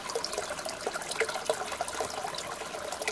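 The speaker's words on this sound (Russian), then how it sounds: "из родника всегда зимой течет теплая вода, а летом холодная" Water runs steadily from a mountain spring in a Dagestan village, a soft, constant trickling and splashing heard close up and fairly quiet, with no voices over it.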